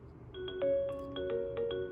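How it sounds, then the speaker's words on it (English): A short electronic ringtone from an Avaya desk phone plays a few bright melodic beeps in a quick repeating pattern, clear and close in a quiet room. "with the phone on hook, this will control my ringing volume."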